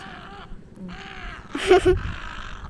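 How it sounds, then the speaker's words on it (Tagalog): Noisy birds calling over one another in overlapping bursts, with a louder burst of squawks near the end against steady outdoor background noise at a beach resort. "Kasi maraming maingay na ibon. Ayan, maingay."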